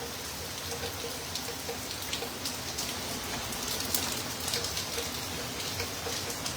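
Heavy rain falls on a New York street still warm from the heat, a dense, even hiss of drops on hard surfaces that holds steady throughout with no voices.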